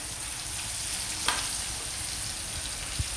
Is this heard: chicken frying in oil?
yes